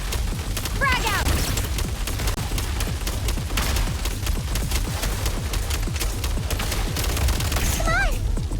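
Dense, rapid gunfire rattles almost nonstop through a shooting video game, loud and close, with brief voices cutting in near the beginning and end.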